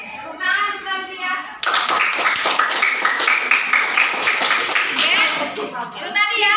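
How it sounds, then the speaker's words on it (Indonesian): Classroom applause for a student named Sylvia, a burst of brisk clapping from many hands close by, lasting several seconds between short stretches of a speaking voice. "Tepuk tangan Sylvia."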